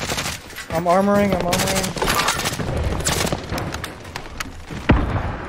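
Rapid bursts of automatic gunfire in the Call of Duty Warzone video game ring out loudly and near, overlapping with players talking excitedly over voice chat.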